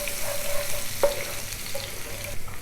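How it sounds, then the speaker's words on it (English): Lamb chops cook in a pan over a fairly loud, continuous sizzle with a faint tonal hum running underneath and one brief clink near the middle, with no one speaking. "as the lamb is getting cooked"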